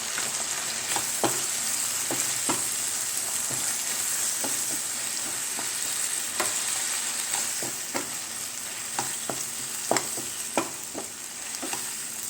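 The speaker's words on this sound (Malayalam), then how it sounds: "ഇതിലേക്ക് കുറച്ച് വിനീഗർ ചേർത്ത് കൊടുക്കാം. ഒരു 1/4 ടീസ്പൂണ് നന്നായിട്ടൊന്ന് ഇളക്കി കൊടുക്കാം." Mushroom manchurian sauce with a splash of vinegar sizzles in a pan while a spoon scrapes and stirs in frequent short strokes over the steady frying hiss.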